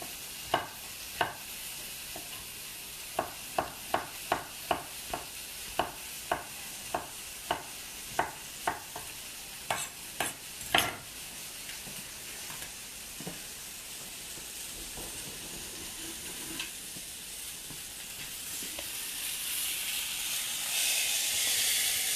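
Onion and zucchini in a pan after bison burgers, a soft sizzle under repeated sharp clicks and scrapes of a utensil stirring, the scraping busier early and the hiss swelling toward the end; quiet and close.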